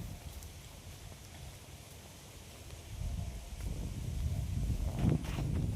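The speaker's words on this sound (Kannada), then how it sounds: "ಮಳೆ ಬಂದ ನೋಡ್ರಿ ನಮ್ಮ ಕಡೆಗೆ" Rain falls outdoors as a soft, diffuse patter that grows steadily heavier and nearer toward the end, with no talk.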